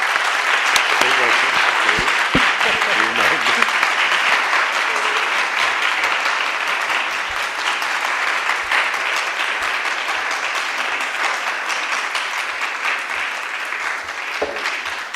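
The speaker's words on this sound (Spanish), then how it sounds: "ni cuando era actor me aplaudían tanto" Long, enthusiastic applause from an audience at a literary event on contemporary Colombian fiction, honoring a guest; dense clapping holds steady for roughly fifteen seconds, with a few louder claps near the start.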